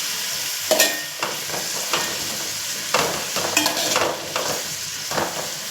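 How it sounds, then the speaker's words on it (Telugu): Sliced onions frying in a pan for a shahi biryani, a steady soft sizzle broken by repeated scraping stirs of the spoon, close and clear with no talk. "ఇవి ఆనియన్స్ వేగేటప్పుడే దీంట్లో కొంచెం పసుపు వేసుకున్నామండి"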